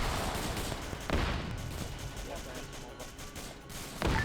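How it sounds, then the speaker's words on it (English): Sniper gunfire in a Vietnam War video game, a couple of sharp shots standing out against continuous battlefield din, one early and one near the end, with voices talking faintly underneath. "they're sniping me out"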